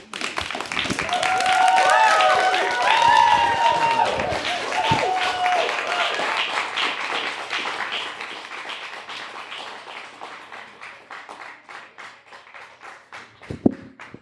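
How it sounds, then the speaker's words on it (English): An audience applauds after a poem performance at a spoken-word open mic, with loud, dense clapping and cheering voices at first that gradually thin out to scattered claps. "Give him a round of applause, man."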